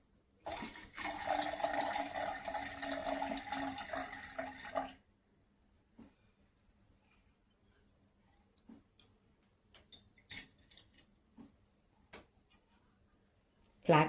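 Water used to soak fenugreek seeds is poured into a pot for boiling with flax seeds, making a steady splashing pour for about four seconds, followed by near silence broken by a few small clicks and taps.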